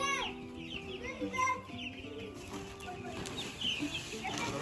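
Chickens at a poultry farm cluck and squawk continuously at moderate distance, a busy overlapping chorus of many birds.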